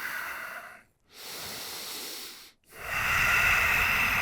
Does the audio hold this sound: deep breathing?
yes